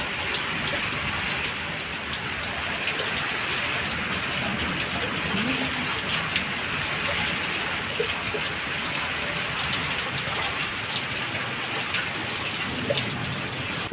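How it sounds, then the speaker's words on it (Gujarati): Heavy rain pours steadily over a village during a monsoon storm with wind, a dense continuous hiss of drops on surfaces lasting throughout at an even, fairly loud level with no talking. "તો 27 તારીખે અમારા ગામમાં છે ફૂલ વરસાદ અને પવન"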